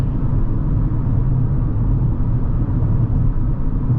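A stock car engine and exhaust idles or runs with a steady low rumble, continuous and fairly loud throughout with no talking.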